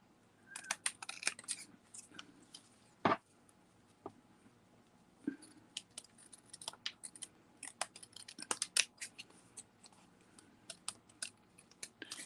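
Scissors trim the edges off an adhesive sheet, a scattered series of quiet snips and small clicks close by, with irregular pauses between cuts.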